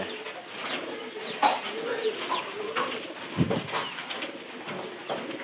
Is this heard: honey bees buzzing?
no